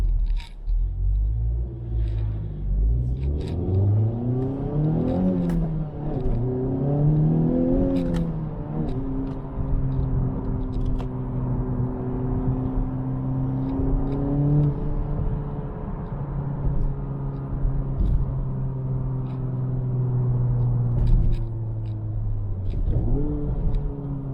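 Honda Civic Type R exhaust in Plus R mode, a deep loud engine rumble climbing through several revving pulls and gear changes, then holding a steady drone close by, with no talk.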